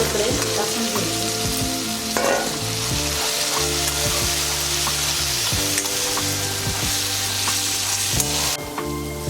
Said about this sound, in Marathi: हळद पावडर आणि त्यानंतर त्यात हे इडलीचे तुकडे टाकून घ्यायचे